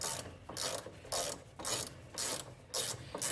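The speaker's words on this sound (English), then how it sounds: "got the 1/2 inch drive out with the longer ratchet" A long-handled 1/2 inch drive ratchet clicks in repeated bursts while loosening the front brake bolts on a Toyota Matrix, each sweep a close, bright rapid pawl rattle separated by short pauses.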